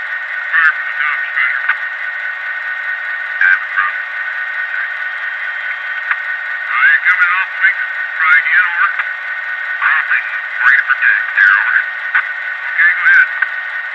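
Crew radio chatter from a LokSound DCC sound decoder in an HO scale GP9 model locomotive comes through as a narrow, static-laden radio band with garbled, broken bursts of voice-like transmission over a constant hiss.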